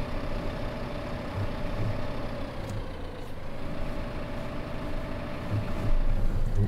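Claas Axos tractor engine in Farming Simulator 2015, a steady low idling drone with a faint tonal hum as the tractor reverses, loud and unbroken throughout.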